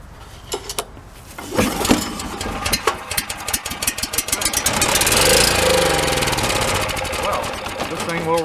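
A PowerBack 5000W generator with a 9HP Briggs & Stratton engine is cranked with a few sharp pulls, then catches and settles into a loud, close, steady chugging run.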